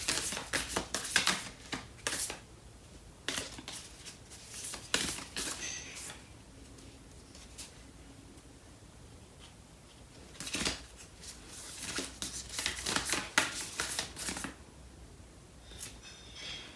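Tarot cards being shuffled and handled, a series of soft, crisp riffling bursts and flicks at irregular intervals with quiet pauses between, close and fairly faint.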